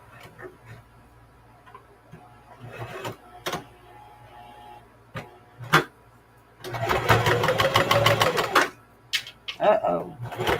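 A sewing machine stitches fabric for a baby nursing pillow or burp cloth in one fast rattling two-second burst, with scattered clicks and handling knocks before and after.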